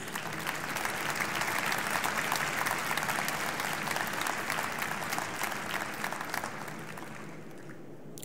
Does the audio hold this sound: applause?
yes